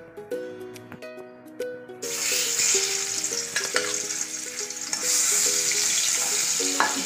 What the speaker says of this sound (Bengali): দুটো দুটো করে মাছ আমি ভেজে নেব।